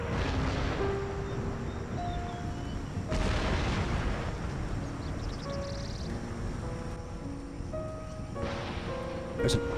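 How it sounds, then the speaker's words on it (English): Cannon artillery fire in the video game Empire: Total War, a battle with muffled booming shots recurring through steady rumbling battle noise, along with scattered musical tones. "There's an accidental cannon hit on something here."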